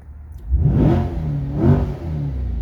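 A Chevrolet Corvette C8 sports car engine revs hard twice in track mode with the windows down, in quick swells, the exhaust note rising and falling over a steady rumbling idle.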